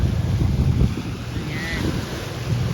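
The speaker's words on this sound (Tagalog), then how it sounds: "Malakas yung alon ngayon guys." Strong waves rolling onto a seaside shore near Batangas, a steady low roar with wind buffeting the microphone and boats nearby, continuous and fairly loud.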